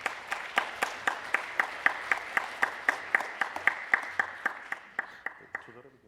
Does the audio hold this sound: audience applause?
yes